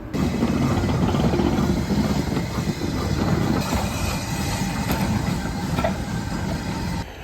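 A train rumbles past steadily and loudly beside a car park in the Lake District, a continuous low roar with faint rail noise throughout, no voices.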